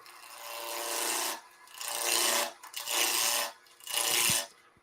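A gouge cutting wood spinning on a lathe, brought to round: four loud, close rasping bursts of about a second each, separated by short pauses, with no talking.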